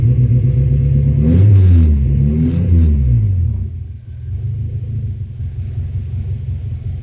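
Renault 16 engine running with part of its exhaust missing after twenty years of sitting. A loud, close, rough rumble swells in a brief rev and then settles back to a steady, throaty idle.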